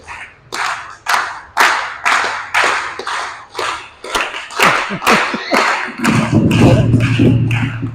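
A devotional gathering in Yogpeeth, Antardvipa, Sri Mayapur, claps in loud, steady, crisp group handclaps, about a dozen evenly spaced beats. Near the end the sound turns into a denser, continuous patter with a low hum underneath.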